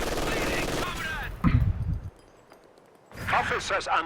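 Sniper rifle shots from a video game ring out, with a loud burst of sharp gunfire in the middle and more shots at the end, heard under an excited commentator talking.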